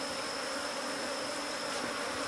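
A swarm of honey bees clustering on a tree branch in Uganda gives off a dense, even buzz with no break, close and steady throughout.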